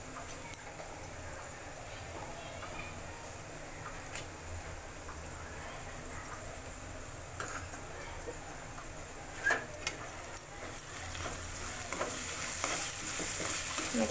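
Onions frying with ginger garlic paste for a paneer tomato curry hiss softly and continuously, with scattered stirring scrapes and a slight swell toward the end, close and without voices.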